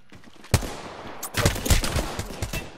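Close gunfire from an Apex Legends battle royale match, a single sharp shot followed after a pause by a rapid burst of automatic fire, loud and punchy with rattling shots trailing off.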